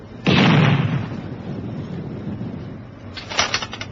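Naval gun fires in a radio drama at sea, one loud booming blast that rumbles and fades, followed by a second burst of sharper noise under quiet background hiss.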